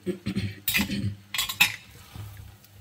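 Cooked kuska rice being mixed in a metal pot, with a run of spoon scrapes and clinks against the vessel, fairly close and clear, ending on a low steady hum.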